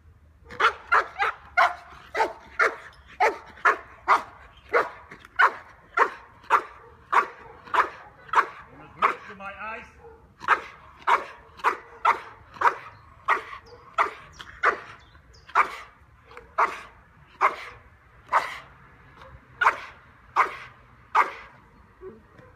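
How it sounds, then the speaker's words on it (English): A dog barks repeatedly in a steady rhythm, loud and close, about twenty barks with a brief break midway. "Want him to bark?"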